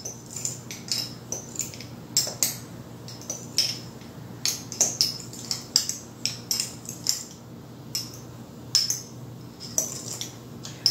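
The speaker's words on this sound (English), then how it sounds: "Make sure you get it all mixed up together here." Cajun seasoning is stirred in a small glass jar with a utensil, giving a quick, steady run of close, bright clinks and taps against the glass, with no talking.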